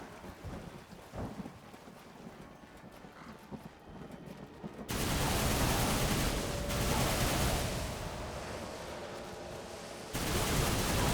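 Loud, broadband gunfire from a gun in the video game Darksiders II during a rail-shooting section, sustained roaring blasts after a quieter stretch, with a second burst near the end.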